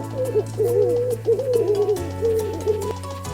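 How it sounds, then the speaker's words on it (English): An owl gives a series of low, wavering hoots across a few seconds, moderately loud over a quiet musical backdrop. "owl"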